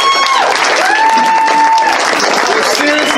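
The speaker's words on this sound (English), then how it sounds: "can we have a round of applause for my co-host Iggy?" A late-night convention show crowd applauds and cheers for the co-host, loud sustained clapping with whoops and shouted voices rising over it.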